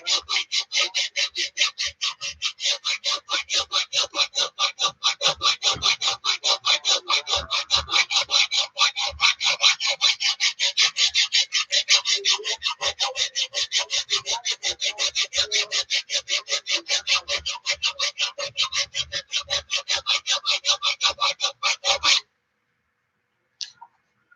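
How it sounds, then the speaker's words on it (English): A file is draw-filed along the blade of a Friedr Herder straight razor, producing steady, rapid rasping strokes in an even rhythm for about twenty seconds, close and loud, before the sound stops abruptly. "And draw filing it on the sides and the flats will, of course, make it a little bit smoother"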